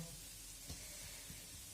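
Khrustyky pastries fry in hot oil with a quiet, steady sizzle and faint crackles, close and low-level with no talk over it.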